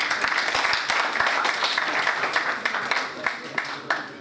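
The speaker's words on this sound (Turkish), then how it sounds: "Cesur adamları alkışlıyoruz." A seated audience at a Turkish cultural-centre author meeting claps for brave volunteers, dense sustained applause lasting several seconds with scattered sharper hand claps, some speech mixed underneath.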